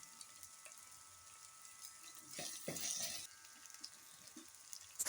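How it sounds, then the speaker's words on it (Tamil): Curry leaves and coriander leaves frying in a pan for home-style mutton curry give a soft, steady sizzle, rising briefly into a louder crackle and stir in the middle, with faint clatter near the end. "அடுத்து கருவேப்பிலை மல்லித்தழை போட்டு லைட்டாக வதக்குங்க"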